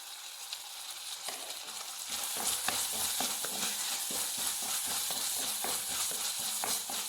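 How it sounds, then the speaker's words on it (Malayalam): Two crushed chilies sauté in a pan for a Kerala-style onion rice. A soft hiss rises into steady sizzling after a couple of seconds, broken by repeated close clicks and scrapes of stirring, with no talking. "അത് രണ്ട് മുളക് ചതച്ചതാണ് നല്ലോണം വഴറ്റിയെടുക്കാം"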